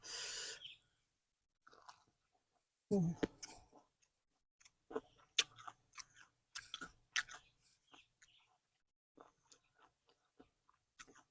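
Raw beef tongue salad with spicy jaew dip being eaten outdoors by green rice fields, with sharp intermittent crunchy bites and wet chewing clicks close to the mic, interspersed with short bits of speech.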